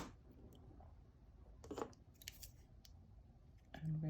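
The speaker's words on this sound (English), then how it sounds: "And cut that wire off." Wire cutters snip through thin jewellery wire while a wire spiral necklace is made: one sharp, close click near the middle over quiet handling rustle, with a soft thud at the end.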